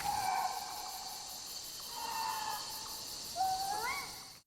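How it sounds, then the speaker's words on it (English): Alien bird calls in temple ruins from the Unity 3D GameKit game: three rising, whistling cries repeat over a steady insect-like hum and hiss, moderately loud with no talk. "when we enter the temple ruins, alien birds and monkey sounds become part of the ambience"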